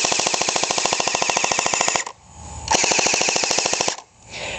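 A Crosman Pulse R76 airsoft rifle fires on full automatic, two rapid bursts of evenly spaced clicking shots with a short pause between them, close and fairly loud.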